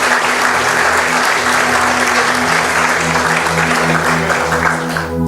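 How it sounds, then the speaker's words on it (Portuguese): Church congregation applauding during a sermon, a loud, sustained roar of clapping from a large crowd with a steady low hum underneath, lasting about five seconds before starting to fade. "Você pode aplaudir o Senhor Jesus por isso?"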